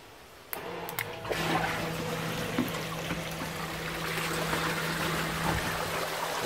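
Water flows at full rate through a recirculating gold sluice, a steady rushing and gurgling stream with a constant low pump hum beneath it after a brief start.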